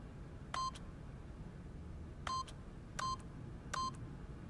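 Four separate bursts of electronic keypad tones from a door keypad in the video game The Stanley Parable 2 as a PIN code is punched in, each a short double beep spaced apart over steady low background noise.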